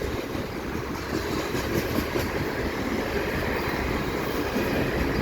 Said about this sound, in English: Now we got cementy coil cars right there.